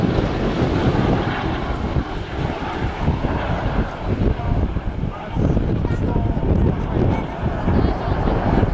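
A loud, continuous jet engine roar as a Strikemaster jet passes at the RAF Cosford Air Show 2017, broad and rumbling, with a person speaking over it.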